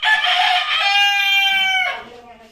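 A Texas gamecock rooster kept for cockfighting crows once, loud and close, in a single drawn-out cock-a-doodle-doo that tapers off at the end, with faint background noise and no talking.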